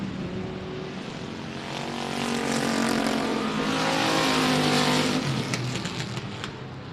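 Race cars roar around the I-37 Speedway oval, their engines swelling loud and close as the pack passes by, then fading slightly, with no voices over the sustained motor noise.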